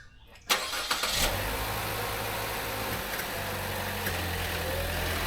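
A car engine starts abruptly and then runs at a steady, close, moderately loud drone as the car drives up onto ramps for a home oil change.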